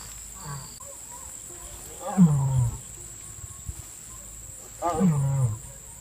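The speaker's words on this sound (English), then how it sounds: "There's a lion and a tiger somewhere in that jungle." Lions and tigers roar from a jungle enclosure, two deep drawn-out roars a few seconds apart, fairly close, with insects faintly in the background and people talking nearby.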